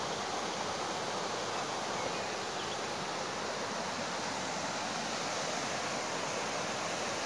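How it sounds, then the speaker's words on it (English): A creek bed in the Smoky Mountains near the Elkmont cabins carries rapids and small waterfalls, giving a dense, even roar of rushing water that is steady and unbroken, with no voices. "You got rapids and waterfalls down there and spring."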